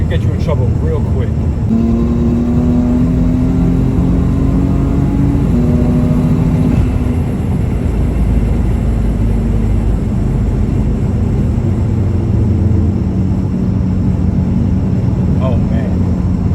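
An F80-generation BMW M3 four-door running stage 2 turbos revs upward through a couple of gear pulls with rising tone and shift breaks, then settles into a lower steady drone, heard from the cabin with someone speaking.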